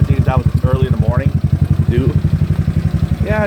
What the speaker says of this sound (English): it sounds like a normal scooter now